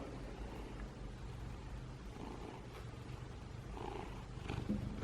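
A pet house cat purring close up, a soft continuous low rumble with a steady rhythmic pulse, quiet and alone throughout.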